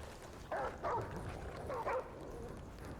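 A companion dog in the video game Remnant: From the Ashes whimpers and yips in a few short bursts, mid-distance and moderately loud over a steady game ambience, with no speech.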